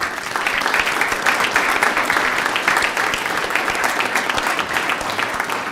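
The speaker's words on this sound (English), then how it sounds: "A round of applause for them." A school board meeting audience claps for a boys basketball team that won its first district championship, giving steady, dense applause that holds evenly throughout without speech.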